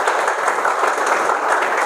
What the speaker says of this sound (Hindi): तो ताली तो बजा दो।